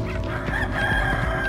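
Chicken clucking and crowing in the video game Resident Evil 4, a steady run of fowl calls lasting the whole moment over a dense, busy game backdrop, with no talk.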